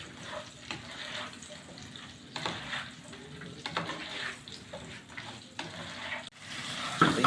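Okra fries in a pan for dhaba-style lady finger curry, with a soft, uneven sizzle and repeated scraping strokes as it is stirred, ending in a louder clatter. No talking.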